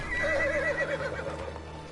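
A horse neighs in the Soul Calibur 6 fighting game, a loud wavering whinny close up that trails off over about a second, over a low steady background hum.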